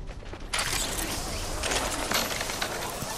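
A zipline ride in the video game Apex Legends: after a quiet half-second, a loud, steady mechanical whir and rattle of the line runs continuously to the end.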